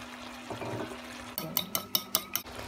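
Zucchini and onion leaves being stirred in a pan, a soft low sizzle at first, then about five sharp clinks of a utensil against the pan in quick succession.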